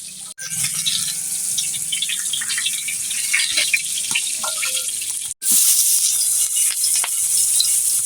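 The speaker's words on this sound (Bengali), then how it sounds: "দেখতে দেখতে মাছগুলো প্রায় ভাজা হয়ে গেছে" Large pieces of rohu fish frying in hot oil in a village kitchen, a close, loud, steady sizzle with scattered pops and crackles and two brief dropouts, no talk.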